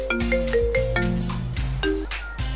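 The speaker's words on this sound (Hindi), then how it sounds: "ये किसका फोन आ रहा है इस टाइम?" A phone ringtone plays a bright electronic melody of stacked tones, repeating in short phrases at steady volume with no talking over it.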